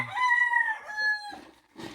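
A native rooster crows loudly and close in one long drawn-out call, followed by brief hen clucking as it fades.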